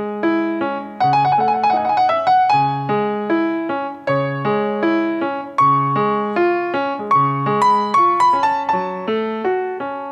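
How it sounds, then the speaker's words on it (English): A piano plays a Chopin nocturne with no timing between the notes, so the chords and melody notes strike at an even, mechanical pace, each one sustained and loud. "I'm going to play you a Chopin nocturne"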